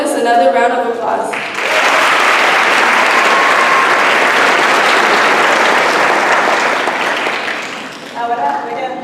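A graduation ceremony audience gives Ms. Gomez a loud, sustained round of applause that swells and runs for about seven seconds before fading. A speaking voice is heard briefly before the clapping starts and again after it dies away.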